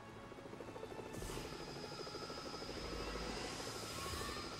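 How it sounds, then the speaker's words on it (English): Helicopter in the Lego Batman 2: DC Super Heroes video game, a steady loud rotor and engine drone that swells in strength after the first second and holds continuously, with no talking over it. "And then I get the helicopter."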